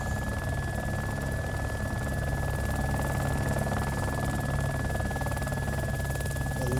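A helicopter in the video game DayZ drones continuously with a steady rotor and engine hum, unchanging and fairly loud for several seconds, with no talking over it.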